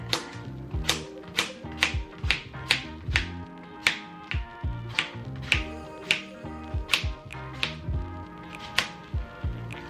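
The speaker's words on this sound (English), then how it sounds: "This zucchini, and I'm gonna cut it or slice it." A knife slices zucchini on a cutting board in a steady series of crisp, evenly spaced taps, about one every third of a second, close and clear over soft music with no talking.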